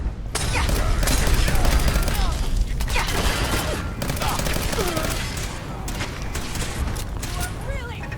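Dense, sustained gunfire and bursts of automatic fire in Fallout 4, loud and continuous with booming impacts, a shouting voice mixed in over the battle.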